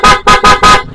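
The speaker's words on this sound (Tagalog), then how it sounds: "ito yung Pia horn natin." A PIAA horn fitted to a QJMotor ATR160 adventure motorcycle honks loudly and close by in three quick blasts, then trails off into a brief fade.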